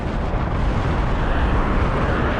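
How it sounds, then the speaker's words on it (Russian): Strong crosswind buffeting a microphone while riding along a road toward a highway near Zernograd, a dense, steady roaring rumble that fills the whole clip at close range with no voices. "Это капец, какой ветер."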